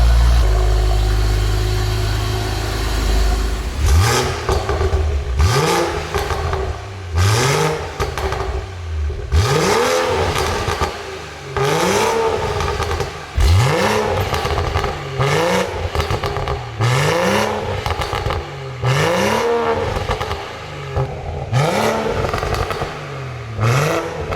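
A Stage 3 BMW M140i fitted with a new exhaust revs repeatedly in Sport Plus mode, each sharp blip rising and falling in a steady series of about a dozen pulls, loud and close with no talking over it.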